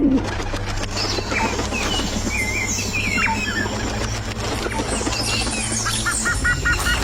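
Pigeons coo softly amid a busy bird backdrop with chirps, a low hum underneath, and a brief flutter of wings.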